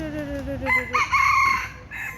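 A rooster crows once, loud and close, its call rising and holding with a harsh, stretched tail while other birds cluck faintly around it in the background.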